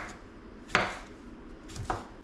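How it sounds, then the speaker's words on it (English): A knife slicing a cucumber into thin slices on a board, two crisp cutting strokes about a second apart, close and fairly quiet with no talking. "I'm gonna make these slices super thin like this."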